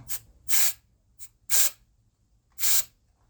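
Three sharp bursts of a compressed air can spraying, each about a fifth of a second, with a fainter short puff between them, all close and loud against near silence, cleaning the rear filter of a Roborock Xiaomi robot vacuum.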